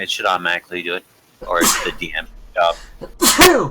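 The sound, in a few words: sneeze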